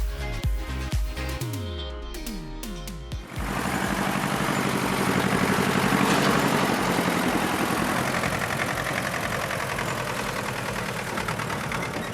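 Compact three-cylinder tractor engine cranks with a few uneven turns, then catches and settles into a steady, loud running drone with no voices.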